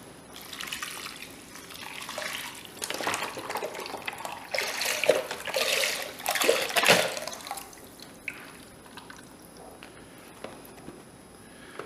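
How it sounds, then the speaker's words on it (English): Beef broth poured into a pot of onions and celery, a splashing, gurgling liquid pour in several bursts, close and moderately loud, tapering into drips. "To the onions and celery, we're going to add 4 cups of beef broth."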